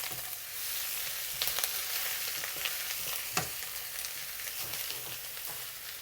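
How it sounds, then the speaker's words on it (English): Aromatics fry in a pot for Coke-braised pork belly, giving a steady, fairly quiet sizzle with a few scattered louder crackles and stirring scrapes, no voices. "Fry and make it a little bit fragrant before we mix it up with our pork."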